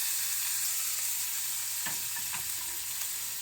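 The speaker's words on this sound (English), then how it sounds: "Now I'm going to add my meat." Already-cooked meat added to a hot pan, a loud steady hiss of frying with a couple of brief stirring clinks partway through.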